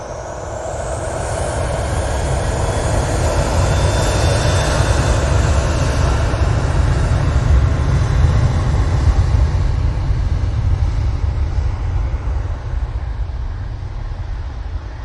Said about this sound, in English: we've got the Ethiopian Airlines coming in at 8:05